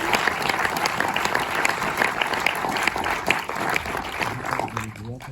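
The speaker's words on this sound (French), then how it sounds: "que je vous demande d'applaudir" Cinema audience at the Méliès in Montreuil applauding the film's co-directors, steady dense clapping throughout with a voice briefly speaking near the end.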